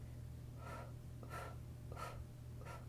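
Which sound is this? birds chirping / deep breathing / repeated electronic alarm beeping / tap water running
deep breathing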